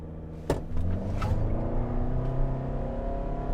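A 2024 Toyota Sienna Limited Hybrid launches hard in sport mode with traction control off, a sharp thump followed by a sustained, rising engine and motor drone held steady at high revs, close and loud inside the cabin.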